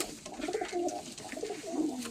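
Soft, throaty pigeon cooing repeats in low rolling phrases, close by, over a faint background hiss.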